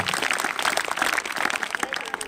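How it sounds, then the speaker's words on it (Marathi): An audience at a school bicycle distribution ceremony claps to welcome a guest, a dense, steady patter of many hands sustained at even loudness throughout, with no voices over it. "त्यांचं आपण सर्वांनी टाळ्या वाजवून स्वागत करावं असं मी विद्यालयाच्या वतीने विनंती करतो"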